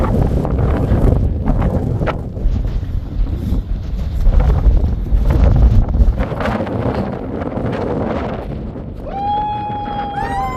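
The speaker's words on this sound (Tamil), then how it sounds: "இந்த இடத்துல பயங்கரமான காற்று இருக்கு" Strong wind buffets the microphone on Chokramudi peak in Kerala, a loud continuous roaring rumble with gusts rising and falling, no voices.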